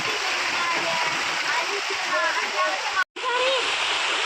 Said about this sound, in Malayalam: ഇതാ നല്ല മഴയാണ് കേട്ടോ